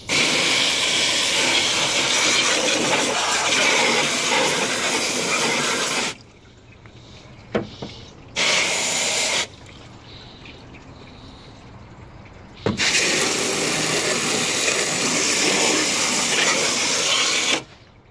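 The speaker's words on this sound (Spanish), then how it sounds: "El agua está circulando perfectamente. Ustedes pueden ver ahí abajo, miren cómo está saliendo." Water rushing through the cleared drain of a 2002 Chrysler Voyager: a loud, steady hissing flow that cuts out twice, briefly resumes, then returns at full strength before stopping.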